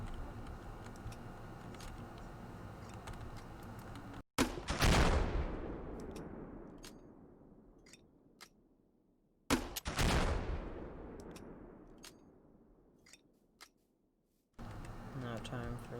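Gunfire in a Modern Warfare mod shooter game: two heavy, booming blasts that roll off into long decaying echoes, set against a steady bed of game noise and ambience.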